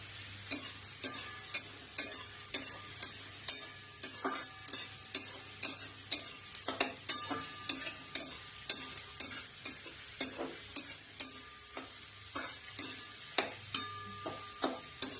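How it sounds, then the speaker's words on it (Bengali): Onions fry in a pan for chicken curry under a steady hiss, with rhythmic spoon scrapes and clinks coming every second or so, close and clear with no talking. "পেঁয়াজটা লাল হওয়া পর্যন্ত ভাজতে থাকুন।"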